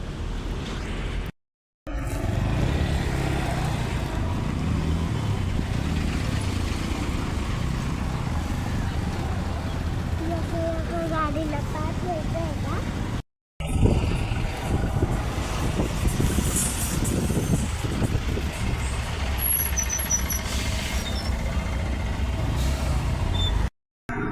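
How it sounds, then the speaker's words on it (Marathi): Heavy road traffic rumbles past, with roaring truck engines, hissing air brakes and passing vehicles, continuous and fairly loud, split by two short dropouts, while people talk at times. "लईच ट्रॅफिक होतं आज."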